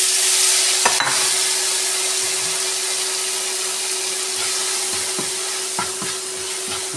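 Dried red chilli seeds sauté in a pan with a continuous hissing sizzle over a steady humming drone, with a few sharp utensil clicks scattered throughout and no voices.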